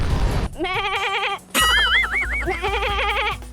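Goats bleat loudly and close by in a pasture, several long wavering cries in succession, one overlapping another, with little else audible.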